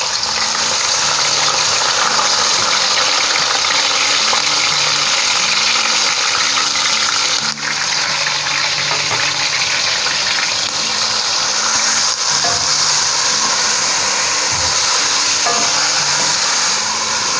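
Grated bottle gourd sizzling in ghee in a pan for a lauki halwa, with green cardamom seeds already crackled in the fat; a continuous loud hiss and bubbling of moisture cooking off, steady for the whole stretch with no talking.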